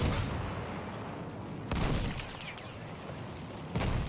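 Heavy artillery and gunfire rumble through a World War I battle in Battlefield 1, with dense continuous battlefield noise and two sharper booming blasts standing out, one near the middle and one toward the end.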